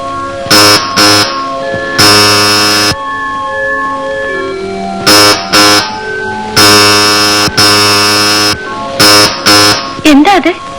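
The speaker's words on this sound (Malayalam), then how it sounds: "കുഞ്ഞിന്റെ അലാറം കോളാ. എന്തെങ്കിലും ആവശ്യമുണ്ടെങ്കിൽ ഈ ബെല്ല്." An electric alarm call bell rings in a house in a 1981 Malayalam film, sounding as a series of loud buzzing bursts of varied length separated by short gaps, with a brief voice near the end.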